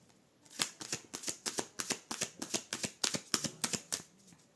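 Tarot cards are riffled and shuffled for a reading in a quick run of about a dozen crisp, close flutters after a brief quiet start, with no voices.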